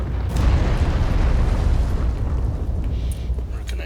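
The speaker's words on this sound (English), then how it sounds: "I can't even see where the explosion's gonna come up unless I track the entire flight of the arrow" Explosions in the video game Dark Souls 3: Ashes of Ariandel, set off where an arrow lands, form a loud, sustained booming rumble with continuous crackling that rolls on for several seconds.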